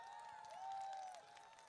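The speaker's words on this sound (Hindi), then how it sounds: "अरे जोरदार ताली।" A crowd at an outdoor political rally claps and cheers, a steady, fairly faint wash of applause that swells briefly in the middle, with a thin high tone running through it.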